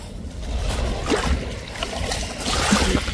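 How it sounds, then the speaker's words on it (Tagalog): Strong waves slosh and rush close by in continuous turbulent water noise that swells in a few surges, with no voices. "Lakas ng alon."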